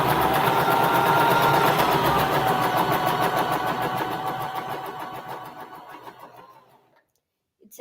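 A sewing machine stitches a quilt-block seam close by, its rapid steady whir running strongly before slowing, fading and stopping near the end.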